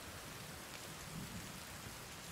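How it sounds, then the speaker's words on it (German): Steady heavy rain falls in the survival video game The Forest, a dense, continuous hiss with low rumbling texture like distant thunder, loud and unbroken throughout with no voices. "Oh, endlich wieder Regen."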